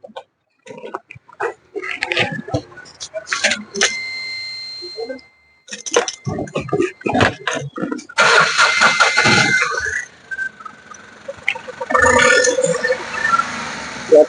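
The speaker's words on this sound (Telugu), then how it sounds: "బండి కూడా స్టార్ట్ చేసి చూపిస్తాను మీకు." A 2023 Bada Dost i4 LS truck's diesel engine cranks and catches, then runs with a rough, uneven idle close by, broken by short pauses and bursts of revving.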